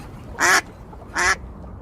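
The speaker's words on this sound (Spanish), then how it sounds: "¿puedes apartar por favor a ese pato del cesto de huevos?" A duck near a basket of eggs gives two loud, close quacks separated by a short pause, with a quiet background between them.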